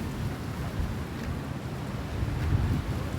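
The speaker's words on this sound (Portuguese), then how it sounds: "Eu só não vou pra praia agora porque tá ventando muito e vai atrapalhar o áudio." Strong wind buffets a microphone outdoors near a beach, a steady low roar with gusts swelling toward the end and no talk.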